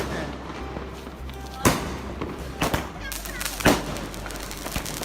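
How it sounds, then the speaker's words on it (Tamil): Several sharp Diwali firecracker bangs, spaced irregularly over a few seconds, loud and close, with background chatter and noise between them. "ஃபைனலாக வந்துட்டு நானும் வெடி வச்சேங்க."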